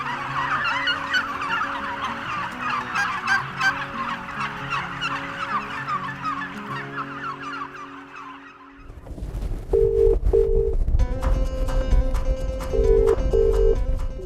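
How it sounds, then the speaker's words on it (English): A flock of turkeys on a turkey farm gobbles repeatedly in bursts over a steady background, with loud, close gobbling choruses that later rise over a low rumble. "I sadly fall asleep at night hearing turkeys gobble."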